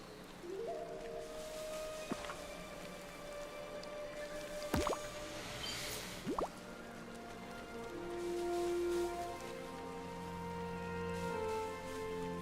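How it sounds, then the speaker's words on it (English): Rain falls in the game Disney Dreamlight Valley, a steady wet patter with occasional sharp drips, heard alone under soft tonal music with no talk. "I need the rain to stop."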